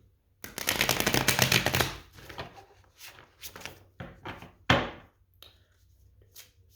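A deck of tarot cards is shuffled by hand close by: a long continuous riffling burst, then several shorter shuffles and a sharper snap near the end.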